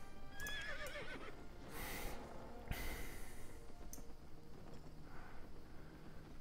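A horse in the online game Albion Online whinnies several times, with a sharp snort and a soft clip-clop of hooves, quiet and close over a low background.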